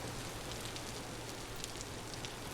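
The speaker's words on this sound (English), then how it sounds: "Raining is very common in this area, which is good to know." Rain falls in the video game Vintage Story as a soft, even hiss of drops with faint scattered patters, continuous and quiet throughout, with no voices.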